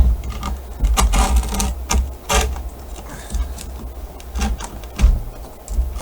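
Knife slicing through skateboard grip tape, a series of sharp scraping rasps and short cuts at close range, with a faint bit of handling noise between strokes.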